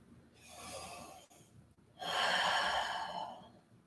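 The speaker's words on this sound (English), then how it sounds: "We'll take some big breaths here" Deep, slow breathing in a yoga straddle fold, close and fairly soft: a long inhale, a brief pause, then a fuller, louder exhale.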